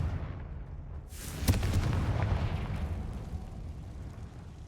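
A Confringo fire spell explodes in the game Hogwarts Legacy, starting with a sharp crack followed by a broad rumbling burst that fades slowly over several seconds.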